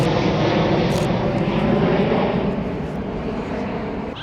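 A China Southern airliner bound for Wuhan roars past at Heathrow, a loud, steady jet engine rumble that swells and then slowly fades as it moves away, with no voices.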